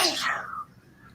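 A single sneeze bursts out close by, a sharp, breathy blast that fades quickly into a quiet room.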